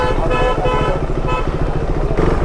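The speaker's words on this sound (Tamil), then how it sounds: "ஏன் ஹார்ன் அடிக்கிறீங்க?" Car and motorcycle horns honk in busy Mumbai street traffic, loud and close, with several short toots over a steady rumble of engines.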